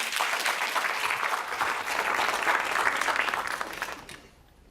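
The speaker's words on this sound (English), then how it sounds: "So a round of applause." Audience applause fills a keynote hall at an MIT water summit, a dense, steady clapping that holds strong for about four seconds before tapering off sharply at the end.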